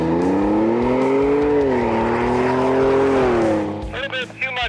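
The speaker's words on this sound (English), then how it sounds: "A little bit too much wheel spin that time." A 2020 Ford F-150 XLT sport truck build launches hard from a standstill with wheel spin. A loud, close engine note climbs steadily for about four seconds with tire noise riding over it, then fades as voices talk over the tail end.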